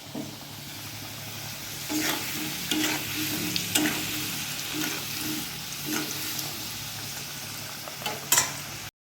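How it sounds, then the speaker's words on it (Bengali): Fish fries in a pan with a close, continuous sizzle, punctuated by repeated crisp pops and spits and a louder burst near the end, with no voices. "এদিকে মাছ ভাজা হয়ে গেছে।"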